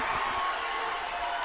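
Basketball crowd at a women's college game, fans on their feet cheering: a dense, steady roar of voices filling the arena throughout, fairly distant and continuous.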